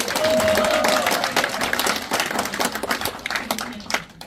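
An audience at a women leaders' council graduation ceremony at Inje University applauds, starting as full clapping and thinning into scattered claps that fade out.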